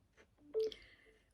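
A mobile phone gives a short electronic beep, a single clear tone lasting about a fifth of a second, preceded by faint murmuring in an otherwise quiet room.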